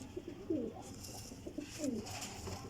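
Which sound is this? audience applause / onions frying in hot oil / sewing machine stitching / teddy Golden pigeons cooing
teddy Golden pigeons cooing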